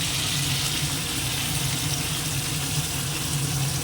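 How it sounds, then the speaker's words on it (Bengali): Water runs steadily from a tap while a bowl is rinsed in a home kitchen during cooking, a continuous close splashing wash with no talking. "এবার এই বাটিটা ধুয়ে একটু জল দিয়ে দেবো"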